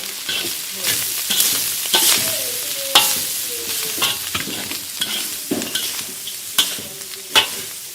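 Garlic and ginger sauté in a pan for a Creole-style guinea fowl in red wine sauce, sizzling steadily close up while a utensil stirs with repeated sharp scrapes and knocks.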